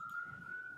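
A distant siren holds a steady, unbroken wail outside, faint and continuous under quiet room tone.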